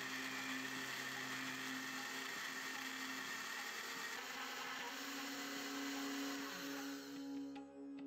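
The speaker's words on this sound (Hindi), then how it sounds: "अभी इसे ऊपर से कवर करके अच्छे से ब्लेंड कर लेंगे।" An electric blender runs steadily, whirring as it blends biscuits, eggs and 500 ml of full-cream milk under a lid, then winds down near the end.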